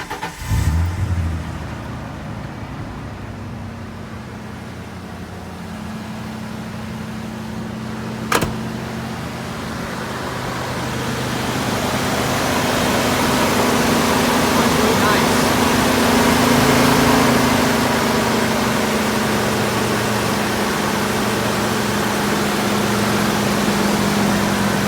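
A 1993 Ford F-150 fitted with an exhaust tip fires up with a sharp start, settles into a steady idle, then rises into a louder, fuller rumble that holds to the end.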